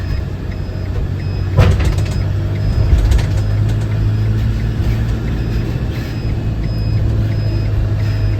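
Vehicles drive onto a Eurotunnel shuttle train through its metal-sided carriages, a steady low engine rumble with repeated high reversing-style beeps and a couple of sharp metallic clanks, all fairly close and loud.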